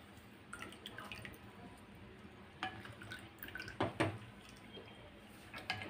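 Half a lemon is squeezed into pani puri water, giving quiet, scattered drips and small splashes. A few sharper drops land near the end against a faint background hiss.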